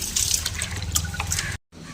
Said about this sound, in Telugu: ఇప్పుడు మెడపైన పైన నీళ్ళు పోసిద్దాం